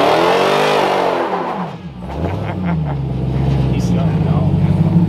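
A Hellcat-engined Jeep Gladiator revs hard during a burnout. The loud, close engine roar sweeps down in pitch, then climbs and holds a strained, droning rev.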